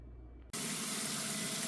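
Tap water runs steadily into a sink to rinse soaked onions for homemade French fried onions. It starts abruptly after a brief quiet moment and then holds a loud, even gush to the end.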